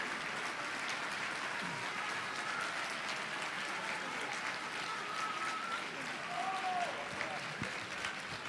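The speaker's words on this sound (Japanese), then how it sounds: "どうぞ大きな拍手でお迎えください。" An election rally crowd applauds to welcome Osaka Restoration Association speakers onto the stage, sustained, dense clapping from many standing people with some crowd noise beneath it.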